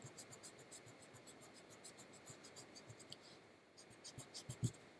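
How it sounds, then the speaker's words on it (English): Pencil lines being rubbed out with a cheap eraser make faint, soft scratchy rubbing strokes in short bursts, growing a little stronger near the end, with no voices. "I'm just going to erase them."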